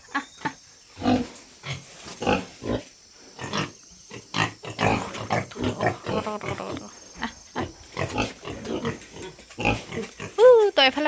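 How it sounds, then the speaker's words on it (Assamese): Pigs on a pig farm in Assam grunt and squeal in repeated bursts, fairly close, with a shrill rising squeal near the end; someone speaks over the animals throughout. "মোৰ ফাৰ্মৰ গাহৰিবিলাক দেখুৱাবৰ কাৰণে, মই আজি দেখুৱাম"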